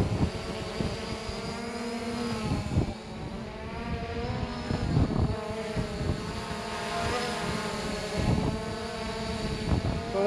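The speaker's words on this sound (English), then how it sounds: "Sticks down and in, start your motors, and up we go." An SJRC F11 4K Pro quadcopter drone spins up its motors and lifts off, giving a continuous buzzing whine with shifting pitch that stays fairly close and steady throughout, no voices over it.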